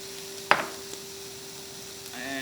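Cabbage, onions, snap peas and julienned pepper sauté in a pan with a soft, steady sizzle, broken by one sharp clank of a utensil against the pan early on.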